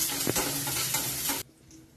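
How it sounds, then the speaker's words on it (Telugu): Mango ginger frying in hot oil in a pan, a steady close sizzle with stirring scrapes that stops abruptly near the end, leaving quiet. "ఇది ఒకసారి వేయించుకోవాలి. ఒకసారి ఇలా వేయించుకోవాలి."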